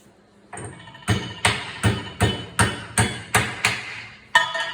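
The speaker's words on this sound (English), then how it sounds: "Bend it over with the brass hammer." A brass hammer strikes a metal hinge pin held in a vise, about nine sharp ringing blows at a steady pace, loud and close, each leaving a short metallic decay.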